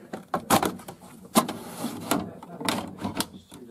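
A stuck detergent drawer on a Hoover washing machine is tugged out in several short, grinding plastic scrapes and clunks, close and fairly loud, with uneven jerky pulls.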